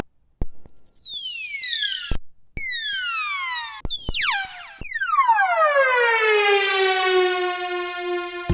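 Pitched riser and downlifter synth effects on an MPC, a series of sweeping tones that glide downward in pitch before a long falling sweep, loud and clean with no talk.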